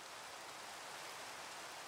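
Steady, even rainfall fills the whole stretch as a soft, continuous wash with no breaks. It is in-game rain in Minecraft running Continuum shaders, quiet overall and with no voices.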